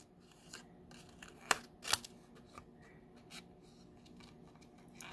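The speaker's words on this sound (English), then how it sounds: "I'm just going to go ahead and cut around this." Scissors snipping around a cardstock sentiment for a handmade Stampin' Up thank-you card: a few crisp, close cuts with quiet paper rustling between them.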